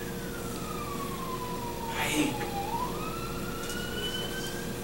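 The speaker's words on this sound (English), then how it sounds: "Too many ambulances, too many police, too many accidents." An emergency vehicle siren wails and sweeps downward in pitch as it passes at moderate distance, then steadies into a continuous tone, with a brief voice and traffic rumble underneath.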